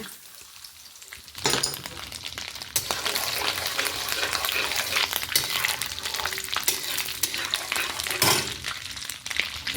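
Coconut pieces tipped into a hot pan for banana gudanna, a jaggery rice sweet, then frying and stirring with a steady loud sizzle, occasional clinks and scrapes throughout, no talking.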